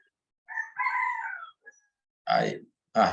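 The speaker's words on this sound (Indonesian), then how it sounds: "Siapa suara ayam itu?" A rooster crows in a few separate calls: a drawn-out cock-a-doodle-doo followed by two short, loud bursts, heard fairly close against silence.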